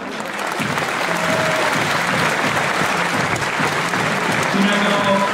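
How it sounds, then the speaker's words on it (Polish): Sustained applause from a volleyball arena crowd welcoming the visiting Stoczniowiec Politechnika Gdańska team before a match against Stilon Gorzów, dense and steady throughout with crowd noise mixed in. "Wielkie brawa!"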